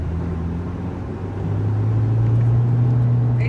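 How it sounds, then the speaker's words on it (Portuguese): A car passes on a road near a roundabout, its engine rumble rising and growing louder through the second half and holding close and steady to the end, with no talk. "Passou o carro."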